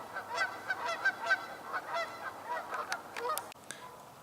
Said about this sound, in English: we have definite confirmation by oral evidence that the unidentified corvids are now identified as ravens